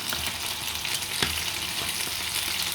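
Jaffna-style fish sothi being stirred after coconut milk is poured in, a steady simmering sizzle with soft intermittent scrapes of stirring, close and continuous with no talk.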